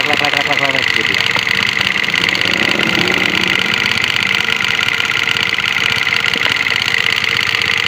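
A Honda CBR 150 R motorcycle engine idles roughly, with a rattling knock coming from the cylinder head. The sound is a loud, constant, close-up churn, and someone talks over it.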